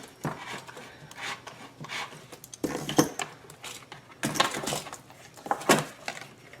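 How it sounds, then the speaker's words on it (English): A repairman's reamer is turned by hand to enlarge a hole in a fuel kit fitting for a Genmax GM3200i generator, giving repeated close scraping and rasping strokes in uneven bursts with small metallic clicks and no speech. "So I'm going to use a repairman's reamer just to clean it up just a little bit."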